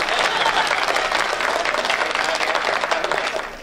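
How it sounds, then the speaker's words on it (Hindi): Sustained loud applause from the audience at a Hindi hasya kavi sammelan (comic poetry gathering), dense steady clapping that fills the room for several seconds and tapers slightly at the end. "ताली बजाइए, एनर्जी मिलती है"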